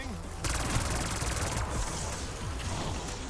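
A 100-round SMG firing in Black Ops 6 Zombies, a dense rapid stream of automatic shots with a fast rattling rhythm, loud and continuous.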